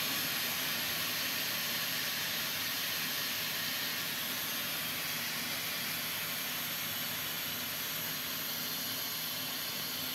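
Steam escapes steadily from a cooking pot during home cooking, a continuous broad hiss with no breaks that holds at one even level throughout.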